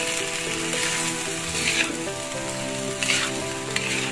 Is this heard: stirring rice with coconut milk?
yes